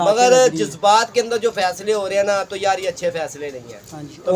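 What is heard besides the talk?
No everyday noise stands out behind the speech.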